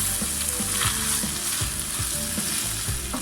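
Mild curry powder being stirred into minced meat cooking in a pan for bobotie, with a close, loud sizzle and rhythmic scraping strokes of the spoon repeating steadily.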